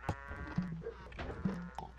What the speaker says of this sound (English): Move, sheep!